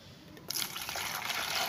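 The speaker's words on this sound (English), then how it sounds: "You go ahead and add your water" Water poured into a pot of ngo for cooking cocoyam in a Nigerian village kitchen, a soft splashing stream that starts abruptly and keeps running, quiet and close, with no talk.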